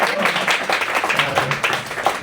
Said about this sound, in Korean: 박수 치려면 제대로 치셔야죠.